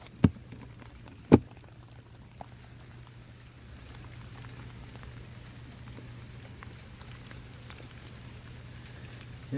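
Rain from a tropical storm falls on beehives as a faint, steady patter and hiss, with a couple of sharp knocks near the start.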